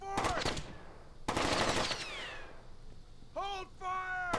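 Rapid bursts of video game gunfire crack out in two loud volleys early on, followed by tonal electronic game sounds and brief voice-like effects toward the end.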